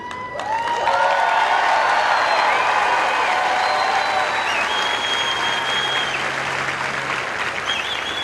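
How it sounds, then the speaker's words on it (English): Steady, loud audience applause at a military training squadron coin and retreat ceremony, with scattered cheers and whoops rising over the sustained clapping throughout. "Please hold your applause until all names have been announced."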